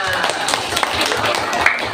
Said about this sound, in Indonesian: Ayo, tepuk tangan dulu buat temannya.